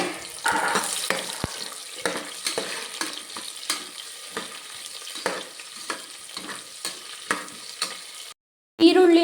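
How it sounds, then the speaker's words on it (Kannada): Chopped onions frying in a pan for a vegetable biryani, with steady sizzling broken by repeated stirring scrapes and clinks close by; a brief silence near the end, then a louder burst of sound. "ಏನು ಕಟ್ ಮಾಡ್ಕೊಂಡಿದ್ದೆ ಅದನ್ನು ಹಾಕೋತಾ ಇದ್ದೀನಿ ಫ್ರೈಗೆ. ಈರುಳ್ಳಿ ಹಾಕ್ಕೊಂಡಿದ್ದೀನಿ."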